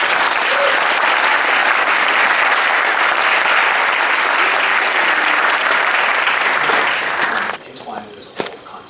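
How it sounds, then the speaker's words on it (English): Big, loud applause from a choir concert audience for high school choir students, a dense roar of clapping that holds for several seconds, then cuts off abruptly, leaving a few stray claps and murmurs. "that alone merits a huge round of applause for the students"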